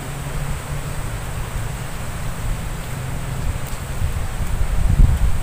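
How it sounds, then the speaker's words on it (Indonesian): Strong wind blows through a garden, a steady rushing hiss with buffeting low rumble that swells louder toward the end. "anginnya banter"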